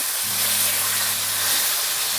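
Ground beef sizzling in a hot pot: a steady, loud broadband hiss throughout, with a faint low hum underneath.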